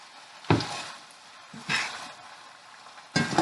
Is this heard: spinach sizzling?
yes